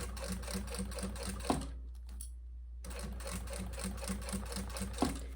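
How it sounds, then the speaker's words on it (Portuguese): A sewing machine stitches a luggage tag up close, its needle running in a fast, steady rhythmic chatter that stops briefly in the middle before resuming at the same pace. "Aqui eu volto pro ponto normal e venho costurando."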